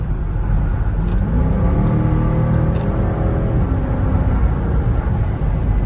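Tuned 2021 Dodge Durango R/T with a 93-octane tune and PCM swap, its engine droning loudly and steadily while driving, pitch rising and falling gently with throttle, with no talk over it.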